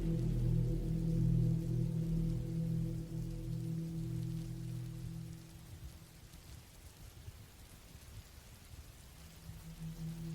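Rain falls steadily as a soft, even hiss in the woods of northern Wyoming on a late summer night, with a low droning hum underneath that fades partway through.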